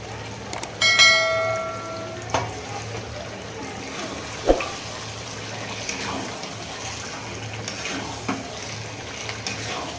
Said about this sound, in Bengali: করে আমি সুন্দর করে এটা কষিয়ে নেব